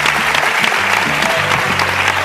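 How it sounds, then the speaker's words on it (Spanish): Studio audience at a television game show giving loud, dense applause, sustained and close, with a low musical tone sounding beneath the clapping. "Un fuerte aplauso para el captador de monos."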